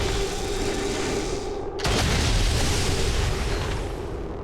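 Gunfire and explosive blasts from XCOM 2 reaction fire, a dense continuous barrage with a sharp louder burst near the middle, steady and close throughout with no talk.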